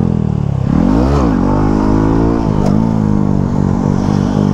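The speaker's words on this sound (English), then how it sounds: "It's so weird trying to wheelie somebody else's bike." A borrowed motorcycle revs hard during a wheelie attempt, the engine sweeping sharply up in pitch, dropping, then holding a loud, steady drone close by with no talk.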